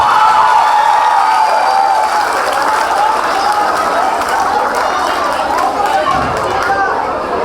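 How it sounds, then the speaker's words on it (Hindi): An audience at a Durga Puja stage show in Venice claps loudly and continuously, mixed with crowd chatter and a few cheers throughout. "ताली बजा दीजिए, को मजा आएगा।"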